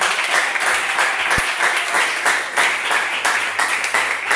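A church congregation breaks into sustained applause at a pastor's installation service, loud, continuous clapping from a full room with a brief low thump partway through.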